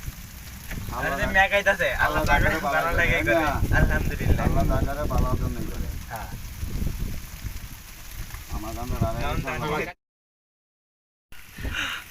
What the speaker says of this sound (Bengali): হাওরের মাঝখানে বৃষ্টি